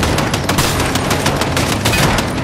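Rapid bursts of gunfire in Fortnite Zero Build crackle loudly and continuously, sharp repeated shots layered close together with no pauses.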